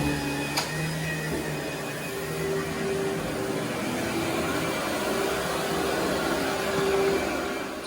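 A vacuum cleaner runs over carpet with a steady, fairly loud motor drone and faint whining tones, continuing evenly throughout.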